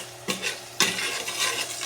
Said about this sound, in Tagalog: Gigisa po natin yan